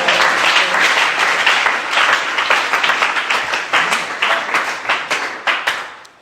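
A church congregation breaks into loud, dense applause. Many hands clap together in a rolling wave that gradually thins into slower, more distinct claps before dying away.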